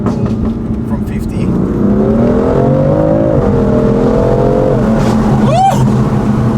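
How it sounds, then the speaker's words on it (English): A car pulls hard in second gear from 50, its engine note rising steadily and loudly over several seconds before easing off, with a person talking over it. "Let's just do a little pull. Let's do it. Second gear pull from 50."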